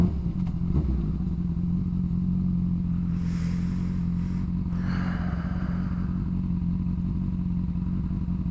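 Steady low motorcycle engine rumble through an old, worn exhaust pipe, idling continuously and fairly loud and close, with a brief rev and some clatter midway.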